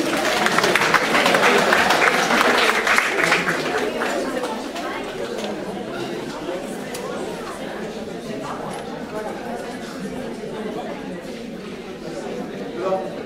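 Audience at a French-language conference applauding themselves after a group exercise, with dense clapping loudest over the first few seconds before thinning into murmuring crowd chatter.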